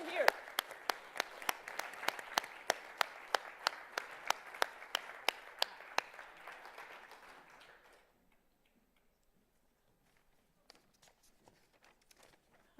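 An audience at a student prize ceremony applauds to welcome finalists, with dense clapping and sharp regular claps or footsteps over it, fading out after about eight seconds into near silence with faint movement.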